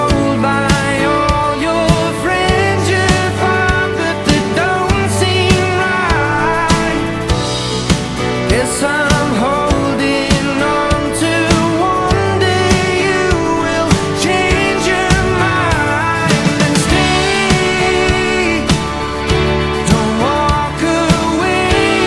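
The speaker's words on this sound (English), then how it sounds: "how to get incredible sounding pop drums, just like the ones that you hear on the radio" Polished radio-style pop drum kit, punchy kick and snare hits keeping a steady groove inside a full, dense mix, loud and close with no talking.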